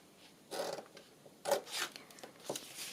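Scissors snip up through a folded sheet of paper while a paper bag is being made, giving three or four short raspy cuts close to the ear, fairly quiet and spaced about a second apart.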